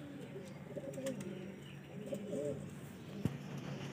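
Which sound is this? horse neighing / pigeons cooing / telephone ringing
pigeons cooing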